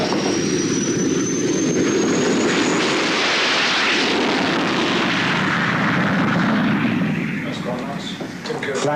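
Training aircraft touching down on a runway during a fighter pilot's first solo flight, a loud, steady engine and wind roar that eases slightly toward the end, with voices talking over it.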